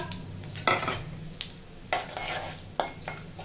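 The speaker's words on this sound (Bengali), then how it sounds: "ওই তেলের মধ্যে দেবো খাড়া মশলা, তেজপাতা, শুকনো লঙ্কা" Whole spices, bay leaf and dried red chilli hit hot oil for a chicken korma, giving a soft, steady sizzle broken by a few scraping stirs of a utensil against the pan; fairly quiet and close, with no one talking.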